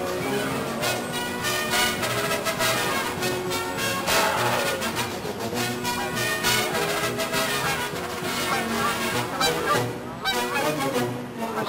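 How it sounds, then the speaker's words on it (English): Canada geese flying in and honking, a dense chorus of repeated loud honks from many birds over a continuous engine drone from a floatplane. "Honkers coming in."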